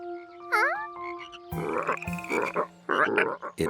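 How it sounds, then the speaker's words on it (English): Loud cartoon frogs croak from Curious George: an early rising, warbling call, then a dense, clamorous run of overlapping croaks that fills the rest of the clip, with no talking. "These loud frogs probably scared the tadpoles away."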